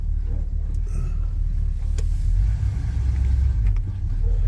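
A Chevrolet Monte Carlo engine runs rough at idle, with a loud, deep, uneven rumble that surges and sags unsteadily at close range and no talking over it.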